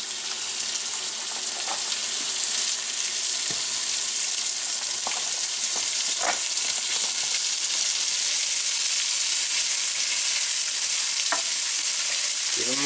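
A tilapia fillet sizzles in butter in a pan, a steady loud hiss of frying with occasional crackles and pops as it is moved and flipped, close up.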